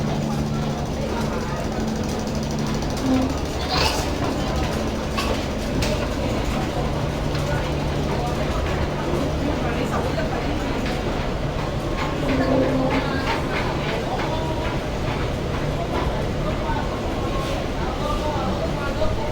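A Hong Kong subway train runs with a steady, loud rumble and rail noise throughout, with faint clanks and a brief screech, as a person talks over it.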